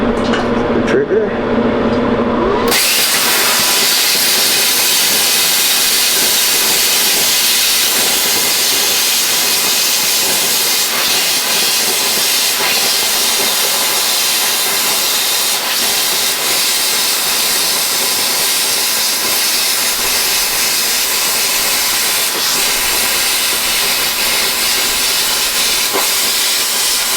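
A plasma cutter slices through steel for a heavy-duty vise stand, a loud, steady, broadband hissing roar that starts abruptly after a short moment and runs without a break, with an air compressor running alongside.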